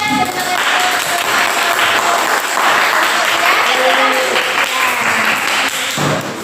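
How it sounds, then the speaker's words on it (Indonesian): A classroom of students claps together during a physics lesson on Hooke's law, steady clapping that holds throughout and tapers near the end. "Oke, tepuk tangan ya."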